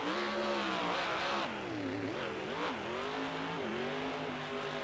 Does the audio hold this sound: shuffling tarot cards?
no